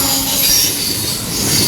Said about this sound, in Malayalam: ഒരു ട്രെയിനും വരുന്നുണ്ടേ